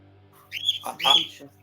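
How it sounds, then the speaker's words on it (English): Pet birds give a couple of loud, harsh squawks close by, rising and falling whistled calls over a low background hum. "My birds are loud"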